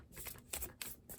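A deck of tarot cards being shuffled by hand gives close, crisp riffling bursts in quick succession with brief pauses between them, with no talking.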